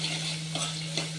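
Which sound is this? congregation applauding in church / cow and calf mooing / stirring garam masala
stirring garam masala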